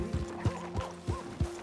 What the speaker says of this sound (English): Look at this beautiful horse.